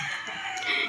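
A rooster crows close by, one drawn-out call lasting under a second with a strained, nasal tone, among chickens kept in a hot, rainy place.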